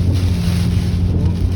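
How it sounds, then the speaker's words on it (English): Strong, steady wind gusts from Hurricane Helene roar loudly against the microphone in a continuous low buffeting rush, with no talking. "There are intense wind gusts right now."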